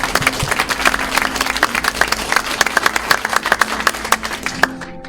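A church congregation claps hands in praise to Christ during a service, with quick irregular claps filling the room for about five seconds before a low hum remains at the end.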